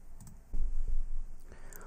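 Computer keyboard keys clicked in a quick few presses for the Command Shift N shortcut in VS Code, close and fairly soft, with light background noise.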